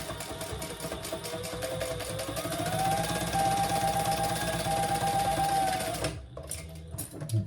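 A sewing machine runs a steady basting seam across the flap of a messenger bag, its needle chattering in a fast even rhythm, close and clear, before stopping abruptly near the end.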